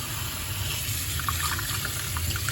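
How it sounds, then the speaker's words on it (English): Water runs and splashes as moss is rinsed in a wire basket, a steady close rushing spray with small trickles. "I just have the wire basket and I just like rinse off the moss and water"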